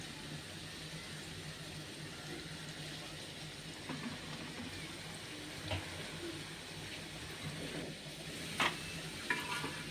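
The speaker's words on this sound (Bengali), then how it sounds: "এবার আমি এটাকে ভেজে নেব তেলটাকে হালকা গরম করে ভেতরে ছেড়ে দিতে হবে।" Biscuit pitha dough frying in lightly heated oil gives a soft, steady sizzle throughout, with a few faint clicks and stirring touches scattered across it. It is fairly quiet and stays close.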